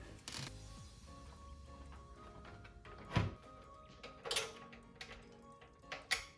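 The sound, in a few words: screwing the power supply into the PC case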